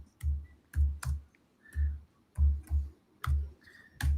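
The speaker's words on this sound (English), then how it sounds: "And I'll type something" Keys clack on a computer keyboard in short irregular bursts of typing, close and crisp, with brief pauses between strokes and no one speaking.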